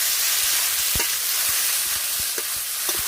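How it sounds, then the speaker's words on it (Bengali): Chopped ash gourd with a hilsa fish head frying in a pan, a loud, dense hiss of oil with occasional knocks and scrapes as the pieces are stirred. "কুচানো চাল কুমড়োগুলো আমি দিয়ে দেবো নেড়ে চেড়ে"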